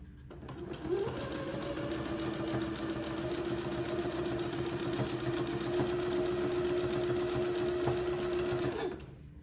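A sewing machine stitches along an entre-deux seam on a baby daygown, giving a steady, close, continuous whirring hum that starts after a brief pause and runs unbroken until it stops near the end.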